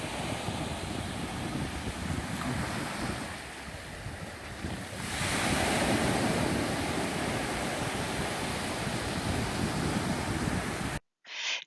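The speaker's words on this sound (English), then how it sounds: "you can think about waves rolling in on a beach like this" Ocean waves roll steadily onto a beach at Bay Bulls, a continuous broad wash of surf with wind noise on the microphone, swelling louder midway and cutting off near the end.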